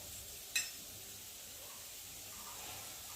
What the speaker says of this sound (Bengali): তো ওই তেলের মধ্যে আমি কালো জিরে ফোড়ন দিয়ে দিলাম